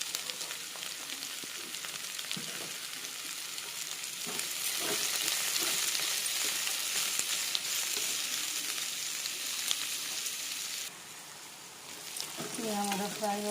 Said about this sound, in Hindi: ये हमारा फ्राई हो रहा है